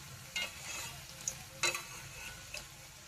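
Bread pieces fry in hot oil for a crispy snack, giving a steady soft sizzle with a few sharper crackling bursts and light stirring taps, close by and without voices.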